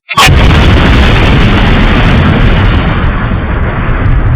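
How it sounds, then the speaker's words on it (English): A huge, loud explosion from a drone strike on a decoy location, erupting suddenly and rolling on as a dense, sustained roar for several seconds with no voices. "Cameras caught the explosion."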